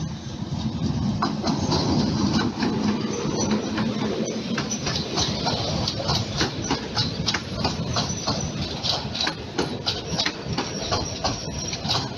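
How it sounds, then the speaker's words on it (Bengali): A train pulls into Bogura railway station in Bangladesh, its wheels clacking in a quick, regular rhythm over the rail joints under a loud, rumbling roar, with birds chirping faintly and no speech. "এই যে ট্রেন আসছে"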